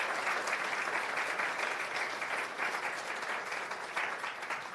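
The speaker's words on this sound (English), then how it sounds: "can we say thank you and a round of applause once again for our speakers, Bryony and Dorothea" A seated audience at a polar science talk applauds the speakers with sustained, even clapping that keeps a full, steady level throughout, with no speech over it.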